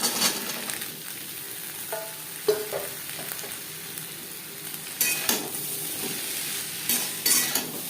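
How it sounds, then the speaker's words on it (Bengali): Spices are stirred and fried over a low flame in a pan for a Bengali prawn and kochur loti dish, giving a soft steady sizzle broken by several sharp scrapes and clinks of a spoon against the pan. "কাঁচা গন্ধে যাওয়া পর্যন্ত নাড়াচাড়া করে দেব তিন চার মিনিট লো ফ্লেমে ভেজে নেওয়ার পর"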